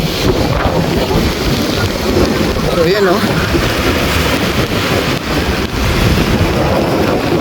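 Strong wind buffets the microphone at a seashore in Rosario, Cavite during a typhoon, with a steady roar of waves and surf throughout, and someone speaks briefly over the noise.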